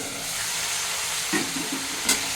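Fresh drumstick chorchori, a Bengali vegetable dish, sizzles steadily in a pan as it is stirred, with a few soft scraping knocks near the end over the continuous frying hiss.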